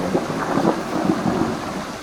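Steady rain pours at night with deep rolling thunder rumbling through it, a dense continuous wash of storm noise with no voices.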